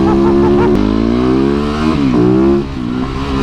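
A newly bought motorcycle engine revs hard and close, a loud steady roar whose pitch climbs, drops sharply near the middle and climbs again, with no talk over it.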